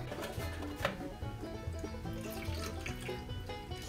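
A can of milk is poured into a pan of Campbell's Cream of Bacon soup with bits of bacon, making a steady liquid splashing and trickling sound with a faint clink near the start and no talking.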